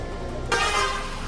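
Several vehicle horns blare at once on a busy street beside a clothing market, a loud burst that starts abruptly over steady traffic noise.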